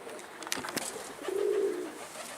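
A bird, likely a pigeon or dove, gives a low soft coo after a couple of faint clicks, heard close and alone against quiet background hiss.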